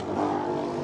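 Formula Student race car running with no silencer, a loud steady buzzing engine note holding close and constant for under a second.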